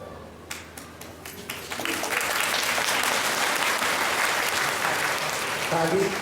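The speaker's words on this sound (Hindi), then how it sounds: "ताली बजाए आप लोग, हमको बहुत बढ़िया लगा" Audience clapping at a Shiv charcha religious gathering in Gita Colony: scattered claps at first, then a thick, steady round of applause that holds to the end, with faint voices underneath.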